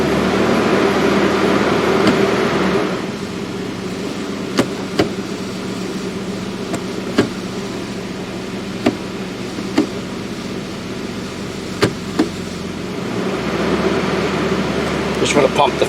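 A 2011 Toyota Tacoma with transmission trouble idles steadily while it is shifted through each gear, a low continuous engine hum broken by sharp clicks and clunks at intervals.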